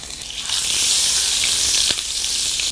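Garlic paste and onion sizzle steadily in about half a cup of hot oil, a loud, close, continuous frying hiss with no pauses.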